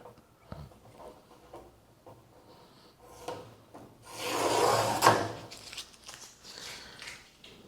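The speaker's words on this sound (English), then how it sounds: "let's remove the tape" Tape peeled slowly from a wet-waxed surface, a quiet rasping tear that swells into a louder ripping stretch midway, close and alone.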